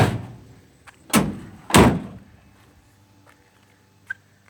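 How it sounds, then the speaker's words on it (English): The rear doors of a 2004 Chevy Astro cargo van shut in two loud, solid slams about half a second apart, followed by quieter clicks and a small latch knock, close by with no talk. "we're going to go ahead and shut these doors"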